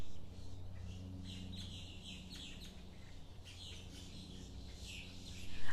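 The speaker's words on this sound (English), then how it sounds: "If you can hear these birds, they're going crazy." Many birds chirp and tweet busily near a natural spring in Florida, a steady layered chorus of calls close by with a soft background hum and no talking.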